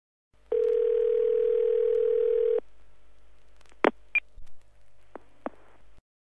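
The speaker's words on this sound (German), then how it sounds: "Sie hören eine automatische Telefonauskunft." Automated telephone information line: a steady dial tone lasting about two seconds, followed by a few short electronic beeps and clicks, clear and isolated with no talking.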